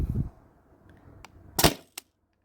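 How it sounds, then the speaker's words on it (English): A paintball marker fed by a Tippmann TiPX CO2 tank fires a single sharp pop, a brief loud crack standing out against a quiet background, followed by a tiny click. "I believe I got 2 more shots, so I'll shoot right now"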